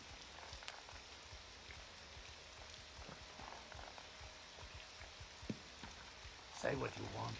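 Steady rain falls in the fantasy game Morrowind, a constant soft hiss with scattered patters and drips, then a brief louder splash or shuffle near the end, with a person talking over it.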